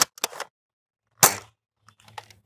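Dart Zone Max Stryker blaster firing foam darts at a tree outdoors: two sharp, loud cracks in quick succession open the clip, a third strong burst follows about a second later, then fainter clicks and rustles trail off.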